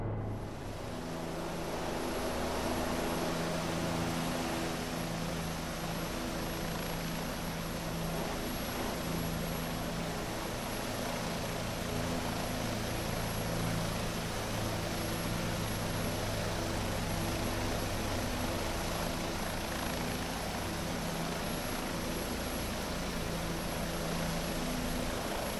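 A helicopter hovers over the harbor at Gustavia, St. Barths, its loud steady rotor and engine drone continuous and close throughout.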